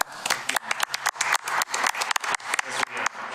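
Attendees at a school board and finance meeting clap in a short burst, with the sharp hand claps close and fairly dense, and no one speaks over them.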